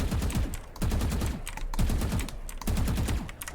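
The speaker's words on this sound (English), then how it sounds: "So if I shoot here normally, just hip fire" Rapid full-auto bursts of Phantom rifle hip fire in Valorant, several loud strings of shots in a row separated by brief pauses, each burst a tight rattling volley with no talking.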